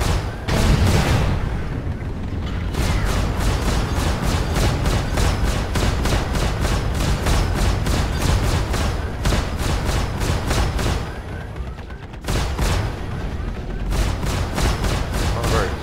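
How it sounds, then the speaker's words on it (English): Missile alpha strike fired from a ship in Star Citizen, a loud, rapid string of sharp blasts repeating for many seconds with brief gaps, dense and close. "Fire missile. Alpha strike away."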